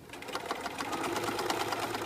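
Sewing machine with a walking foot stitching quilt binding, a steady rapid mechanical whir and chatter running continuously at close range.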